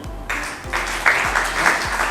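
Applause from colleagues at a business presentation, a dense steady patter of clapping starting after a brief quiet moment and continuing throughout, with a low rhythmic thump underneath.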